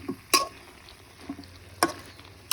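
Cauliflower stirred and fried in a pan, a soft sizzling bed broken by a few sharp scrapes and clinks of the spatula, close and without talk.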